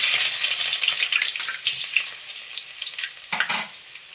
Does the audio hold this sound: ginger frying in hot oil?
yes